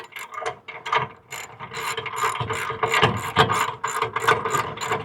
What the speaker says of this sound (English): I'm going to go ahead and put the ratchet on it.